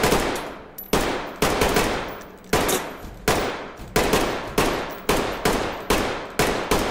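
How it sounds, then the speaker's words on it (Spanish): Gunfire shot from the hip in Ready or Not, a loud close series of single and double blasts fired at a steady semi-automatic pace, each shot's echo trailing off before the next. "Ahí está, disparo desde la cadera."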